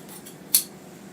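Scissors trimming the fabric at the center front of a draped dress, one short crisp snip, quiet and close, standing alone against a faint room background.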